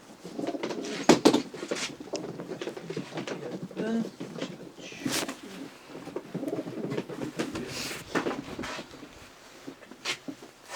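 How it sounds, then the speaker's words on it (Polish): Breeding racing pigeons in a loft coo repeatedly at close range, low throaty calls recurring through the clip alongside rustling and someone talking at times. "To jest gołąbek też od Roberta Bauera."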